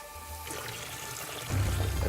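Steady water rushing and splashing in the video game Castle the Game, moderately loud and continuous, swelling a little stronger near the end.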